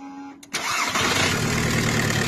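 A Volkswagen car engine cranks briefly and catches, then settles into a steady, loud, close running idle with no talk over it.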